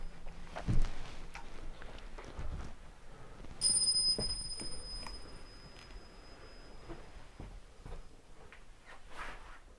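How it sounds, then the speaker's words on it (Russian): A small bell rings in the horror video game The Devil's Basement, a bright brief chime that rises above a dim, rustling ambient background. "Один колокольчик"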